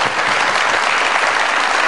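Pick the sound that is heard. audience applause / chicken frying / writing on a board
audience applause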